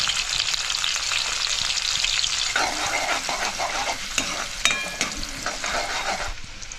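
Garlic, chili and onion hit hot oil in a pan for a fish curry, giving a loud continuous sizzle with stirring scrapes and a few utensil clinks close by.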